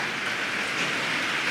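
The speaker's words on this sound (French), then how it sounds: "très bonne nouvelle, il pleut chez nous" Steady rain falls outdoors, a dense, even hiss of drops on surfaces that stays constant throughout, with no voices.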